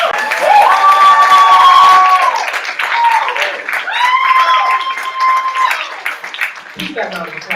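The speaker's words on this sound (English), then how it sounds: "Keep that round of applause for Sid" Applause and cheering rise from the audience at a poetry slam in Berkeley, a lively mix of clapping and whoops with voices calling out over it, fading somewhat toward the end.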